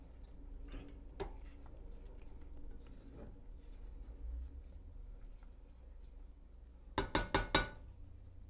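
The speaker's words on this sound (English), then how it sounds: "We're gonna stir it occasionally until it's cooked." A spoon stirs champorado, a chocolate rice porridge, in a pot. Quiet scraping sounds give way to four quick metallic clinks against the pot near the end.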